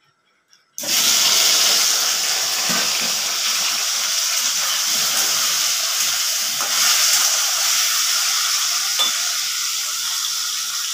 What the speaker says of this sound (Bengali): এখন আমি ছড়া কচুটা ভেজে নেব, নুন হলুদ দিয়ে দিয়েছি এর মধ্যে।